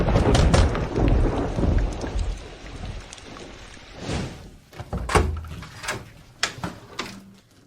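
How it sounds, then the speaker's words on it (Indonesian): Heavy rain pours outside in the first half, with thunder rumbling and cracking near and loud, then sharp rolls and claps continue over a quieter drizzle. "Di luar hujan."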